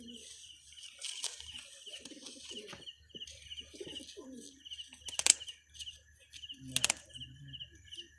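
Domestic pigeons kept for a bloodline breeding loft coo softly in short, low bursts from nearby, with a few sharp clatters and wing sounds; a faint background hum runs underneath, with no talking.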